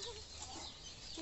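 Backyard chickens cluck steadily and close by over a constant hiss, with no talking.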